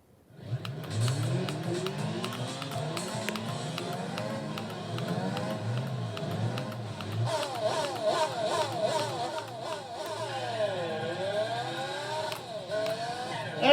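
Race car engine from Gran Turismo 4, launched on a test course on super soft tyres, revving hard with rising and falling gear-shift sweeps, steady and loud throughout, with other cars audible and light talk underneath.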